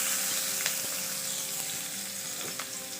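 Garlic sizzles and fries in cooking oil with a steady, dense crackle and a few soft stirring clicks, fairly close and alone, for a Filipino pork kare-kare dish.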